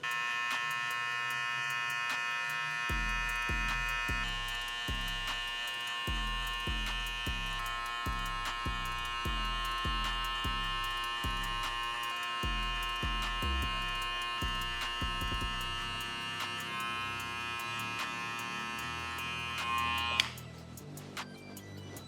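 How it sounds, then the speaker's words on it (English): Electric hair clippers run with a steady, bright buzzing hum while a barber details a skin fade, and a rhythmic series of low thumps and clicks sits under the buzz before the motor cuts off near the end. "we're just gonna use the corner of the clipper just to kind of detail that line out"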